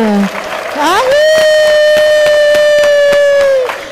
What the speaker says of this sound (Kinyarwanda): Tumwongera amashyi n'impundu.